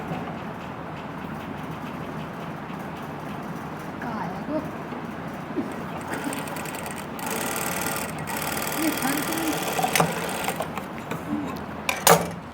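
A sewing machine stitches a women's party wear dress, running in a steady continuous whir that builds toward the end, with a person talking over it at times.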